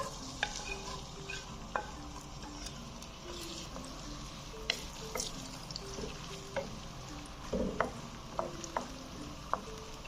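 Chopped medium onion frying in hot oil in a pan for a white lobia curry, soft sizzling with irregular sharp ticks and pops and occasional spoon clinks, close and quiet, no talk.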